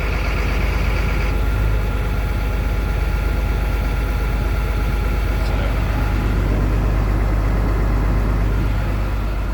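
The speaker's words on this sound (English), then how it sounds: "there goes into high idle." Bus engine running at high idle, a dense steady drone close up that holds level throughout with no voices.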